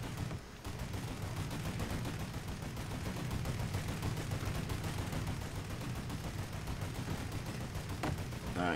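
Sustained gunfire rattles nonstop in the crime action game Mafia 3, dense overlapping bursts and automatic fire at close range filling the whole stretch.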